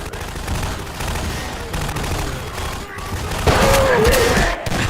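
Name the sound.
grenade launcher fire in a video game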